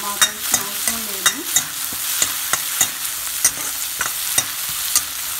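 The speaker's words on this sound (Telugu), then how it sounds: "Onions and green chilli pieces ఇది roasted for a while, but not very like the skin, the color changes lightly into golden." Chopped onions and green chilli pieces sizzle steadily in hot oil while a spoon scrapes and knocks against the pan in a regular rhythm, close and fairly loud, with no voices.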